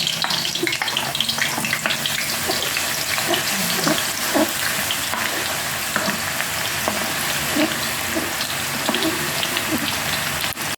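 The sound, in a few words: onions frying in cooking oil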